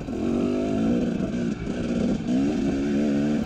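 A Yamaha TX300 dirt bike engine runs hard and loud on a desert trail, its two-stroke note holding a steady buzzing drone with brief dips and rises as the throttle is worked, no voices over it.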